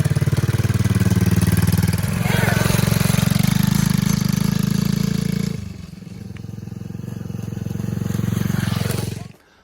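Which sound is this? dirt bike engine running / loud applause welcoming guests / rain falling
dirt bike engine running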